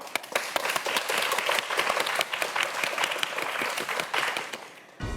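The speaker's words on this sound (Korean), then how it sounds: "네 학생 모두에게 큰 박수 부탁드립니다" An audience applauds four middle-school students after a science quiz show, dense sustained clapping from many hands filling the room at full strength before cutting off abruptly at the end.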